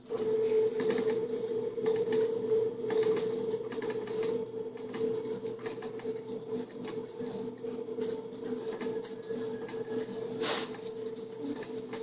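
A mixer runs on speed 1 to cream cheesecake batter, giving a continuous mid-pitched motor hum with light ticking and patter throughout.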